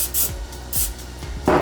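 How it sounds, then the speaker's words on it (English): Extra virgin olive oil cooking spray squirted in several short hissing bursts, close and fairly loud, with brief gaps between sprays. "squirting it down with some extra virgin olive oil spray"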